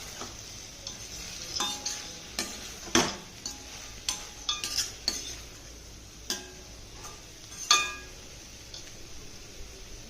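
Okra curry being stirred with a spoon in a pot after chili powder goes in, a series of distinct scraping and clinking strokes over a faint sizzle, close and alone without talk.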